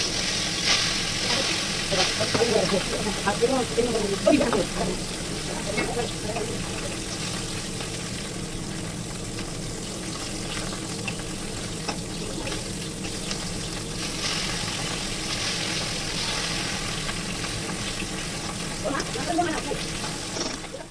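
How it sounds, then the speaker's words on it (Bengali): Fish coated in salt and turmeric frying in hot oil in a wok, a steady crackling sizzle running for about twenty seconds, with a soft clatter of handling early on and no voices. "তো এইদিকে এখন এই যে কড়াইও বসিয়ে দিলাম, দিয়ে এখন হচ্ছে মাছগুলো ভেজে নেব"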